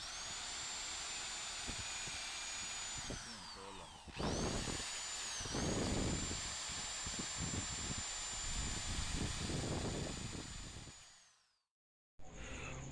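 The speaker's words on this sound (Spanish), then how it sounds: "Ahora vamos a quitar todos los restos de soldadura con nuestro cepillo." A power tool with a wire brush scrubs welding residue off a metal tripod, a high, steady whine with rough scraping bursts that cuts out briefly near the end and starts again.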